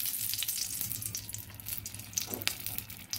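Dry red chillies hiss and sizzle in hot oil in a wok used for frying fish, a steady close frying crackle running throughout with a low hum underneath.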